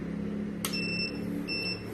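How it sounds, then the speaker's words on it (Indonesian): Soldering station buzzer beeping twice at power-on, two short high electronic tones close together over a low steady hum. "ada suara bunyi buzzer 2 kali"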